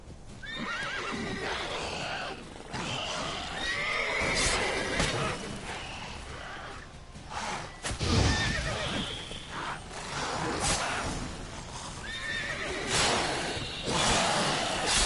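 A horse whinnies and snorts in The Witcher 3, with hoof clip-clops and swishing movement under several loud neighs spread across the stretch.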